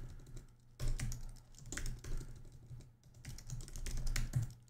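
Code is typed on a computer keyboard in steady, close bursts of soft key clicks with brief pauses between runs.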